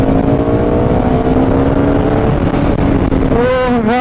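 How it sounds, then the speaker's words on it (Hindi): Motorcycle engine revving hard in third gear during a drag race, a loud, steady droning pitch that climbs and then swoops as the revs change near the end, close and alone. "तीसरे गियर पे क्या आवाज आती है।"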